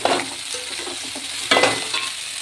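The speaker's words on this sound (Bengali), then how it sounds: "সিদ্ধ করে রাখা চাউমিনটাও দিয়ে দিলাম। এবার একে হালকা হাতে উল্টো পাল্টা করে নেবো।" Boiled chow mein noodles for chicken chow mein are tossed in a hot frying pan, a close sizzle with two bursts of stirring scrapes, one at the start and one midway.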